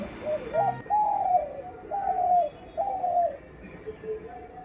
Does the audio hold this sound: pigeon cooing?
yes